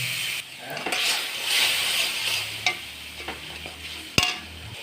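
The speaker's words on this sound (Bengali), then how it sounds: "এই টমেটো ভাজার মধ্যে দিয়ে দেবো আমি পেস্ট করে রাখা মশলাটা দিয়ে ভালো করে মশলাটার সঙ্গে টমেটোটাকে কষিয়ে নেব" Tomato and spice paste fry in a pan with a continuous close sizzle, overlaid by repeated scraping stir strokes and an occasional sharp knock of the spoon.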